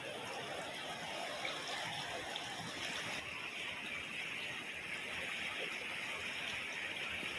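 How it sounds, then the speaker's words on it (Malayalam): Shallow river water spreading wide over a low bed near the Thriveni Sangamam at Moolamattom, with a strong undercurrent; a steady, even rushing wash runs close and unbroken throughout. "വെള്ളം പരന്നൊഴുകയാണ്, ആഴം കുറവാണ്, എന്നാലും നല്ല അടിയൊഴുക്കുണ്ട് പരന്ന്"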